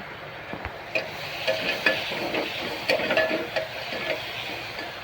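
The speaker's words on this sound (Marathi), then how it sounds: "कांदा टोमॅटो चांगला परतून घेतलाय" Onion and tomato fry in a pan while a spoon stirs them, with a soft continuous sizzle broken by repeated scraping and clinking strokes close by.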